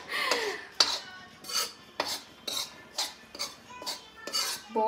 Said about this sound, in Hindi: बस हुणे नूं मिक्स करांगी मैं